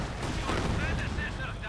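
Dense battlefield gunfire and artillery booms from the real-time strategy game Company of Heroes 2, a loud continuous barrage of overlapping shots with some faint whistling tones mixed in.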